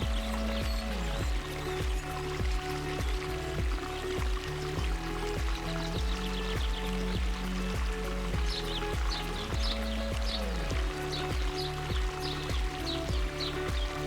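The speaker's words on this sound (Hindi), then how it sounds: "ये एक मैन मेड वाटरफॉल है।" A man-made waterfall formed where a river beside a guest house was diverted gives a steady, dense rushing pour that continues evenly throughout, with a faint rhythmic knocking underneath and no talk.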